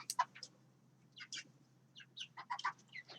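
Chickens clucking in a small backyard flock during a weighing session, with several short bursts of clucks and chirps in a broken rhythm, fairly close and moderately quiet against a low steady hum.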